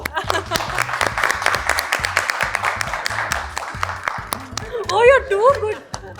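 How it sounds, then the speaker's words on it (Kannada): Applause from the whole crew on a studio set, a steady patter of many hands clapping close by, broken by laughter and excited talking over it and rising cheers toward the end. "ಇದು ಒರಿಜಿನಲ್ ಚಪ್ಪಾಳೆ ಹಾ ನಾವು ಸುಮ್ಮನೆ ಬ್ಯಾಕ್ ಹ್ಯಾಂಡಲ್ಲಿ ಇಲ್ಲಿರೋ ಸೆಟ್ಟಲ್ಲಿರೋ ಎಲ್ಲರೂ ಚಪ್ಪಾಳೆ ಹೊಡ್ತಿದ್ದೀವಿ"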